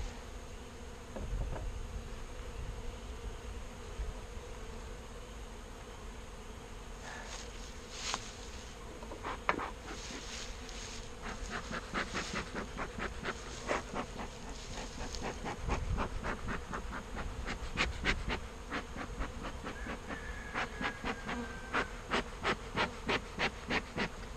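Honey bees buzz steadily around an open hive during a beekeeping check, a dense insect drone with sharper passes of individual bees close by, and occasional handling clunks.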